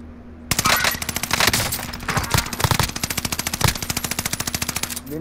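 Rapid automatic gunfire from a shooter video game, with long dense bursts of rhythmic shots close and loud, a few heavier single cracks in between, and a brief pause before the end.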